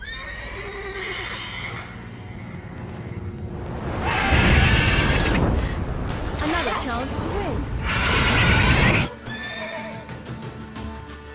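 A mare in The Witcher 3 neighs loudly in two strong bursts with clip-clopping hooves around them, while people talk at the start and the end.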